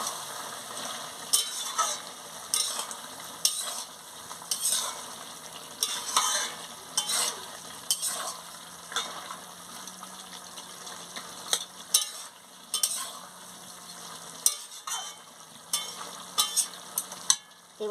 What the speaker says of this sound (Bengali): জিরের গুঁড়োটা দিয়ে ভালো করে নাড়িয়ে নিচ্ছি